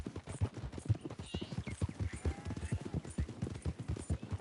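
Galloping horse hooves in Red Dead Redemption 2, a fast, steady clip-clop rhythm up close with faint voices and game sounds underneath.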